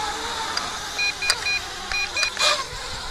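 An MJX Bugs 8 Pro RC car driving, its small electric motor whirring in short bursts between pauses, with faint high beeps mixed in.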